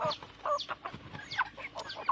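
Young Thai fighting chickens with speckled white wings and tails, including hens, cluck and squawk in quick, irregular bursts at close range, fairly soft overall.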